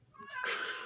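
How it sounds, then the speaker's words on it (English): A cat lets out a loud, drawn-out meow close by. The cry rises into a strained, caterwauling wail and stands alone with no talking over it. "Do you hear his cat?"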